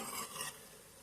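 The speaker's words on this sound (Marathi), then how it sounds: "तर आता ही मी ढवळून घेते." A spoon scrapes through valichi bhaji, a field bean dish cooked with coconut, in a pan: one brief stirring sweep with a soft sizzle, close and quiet.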